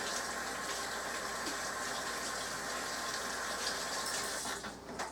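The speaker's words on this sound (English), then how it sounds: "Helen, I gotta wash my hands." Hands are washed under a running kitchen tap, a steady hissing stream of water splashing continuously at moderate distance, with no talk.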